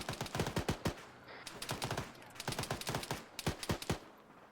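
Automatic gunfire in the Arma 3 military video game, loud bursts of rapid rifle or machine-gun shots in several rhythmic volleys separated by brief pauses.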